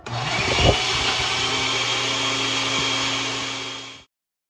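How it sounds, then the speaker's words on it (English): A blender on its high smoothie-extract setting blending Haitian epis: a loud, steady motor roar that holds at one pitch for about four seconds, then cuts off abruptly into silence. "now what I'm gonna do is start blending"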